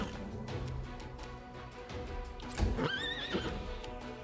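A plague horse whinnies loudly in Pathfinder: Wrath of the Righteous, a rising then wavering neigh amid clip-clop hooves and busy battle sounds.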